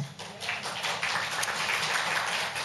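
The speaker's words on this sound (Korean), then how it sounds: "여러분들께서 격려의 박수를 좀 보내주시기 바랍니다" Church congregation applauding during a Sabbath worship service, a soft, steady wash of clapping heard from a distance with no voices over it.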